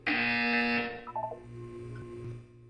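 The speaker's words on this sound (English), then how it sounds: "You will hear a buzzer." A harsh electronic buzzer from the video game Portal 2 sounds loud and steady for about a second, then cuts off, followed by a short burst of tones and a low background hum.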